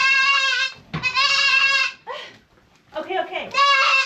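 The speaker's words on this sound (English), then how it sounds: "catching a wild goat that does not want to be caught." A wild goat bleats loudly and repeatedly while being caught by hand, its long quavering cries close up, broken by brief rustling and scuffling between calls.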